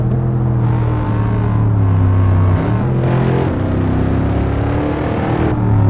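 Mercedes-AMG W213 E63S Estate V8 in Assetto Corsa, racing at Bikernieki: a loud, steady engine drone that rises and falls with throttle changes, heard close and alone.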